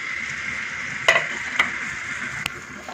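Small chopped onions fry gently in a pot for chicken korma, giving a soft, steady sizzle with a few sharp clinks of a utensil against the pot.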